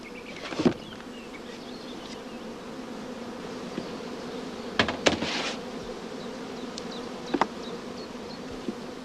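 Honey bees buzzing around hive supers, a steady close hum with a few louder passes of individual bees near the listener.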